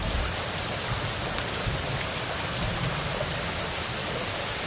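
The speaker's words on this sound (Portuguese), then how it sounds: "Aumentando a chuva, Ninho." Steady rain in the video game Sons of the Forest hisses continuously, a dense even patter with no breaks and no talking.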